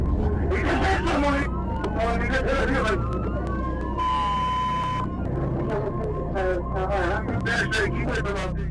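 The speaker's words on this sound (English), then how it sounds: "He immediately activated his lights and sirens" A police cruiser's siren wails during a high-speed chase at over 100 mph, steady rising and falling tones over loud road and engine roar, with a speaker talking throughout.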